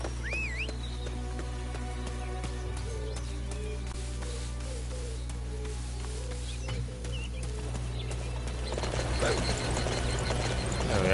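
Rhythmic hoof clip-clop of a galloping horse in Dynasty Warriors 9 over steady game music and ambience, with bird chirps and a rising swell near the end.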